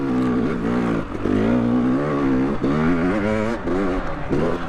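A two-stroke YZ250X dirt bike climbing a rocky hill in first gear, engine revving hard in repeated surges that rise and dip, loud and close with a buzzy harmonic rasp.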